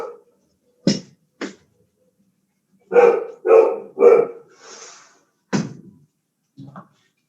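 Pet dog barking indoors near a computer, a series of sharp, loud, close barks in uneven bursts with short pauses between them.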